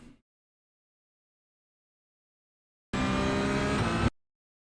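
Porsche 992.1 GT3 Cup race car engine in iRacing at Fuji, a loud sustained roar with harmonic whine bursting in after a long silence and cutting off about a second later.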